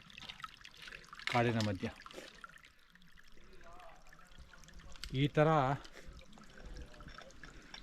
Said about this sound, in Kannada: ಅಷ್ಟು ಚಿಕ್ಕದಾಗಿ ಹರಿತಾ ಇದೆ ನೋಡಿ ನೀರು